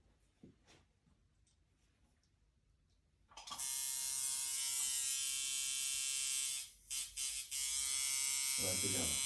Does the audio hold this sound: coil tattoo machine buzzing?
yes